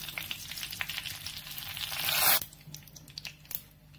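Bay leaves and dried red chilies crackle and sizzle in hot oil with asafoetida for a Bengali sweet tomato chutney, a steady loud frying hiss that swells then drops to sparse softer pops.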